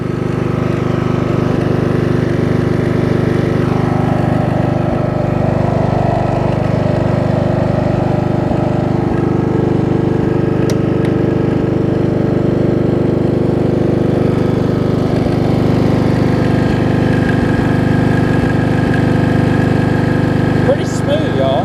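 A Craftsman riding mower's 12.5 horsepower flathead engine idles steadily and loudly at close range, a smooth continuous drone with no pauses.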